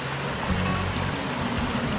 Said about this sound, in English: We have a water feature that adds the background sound.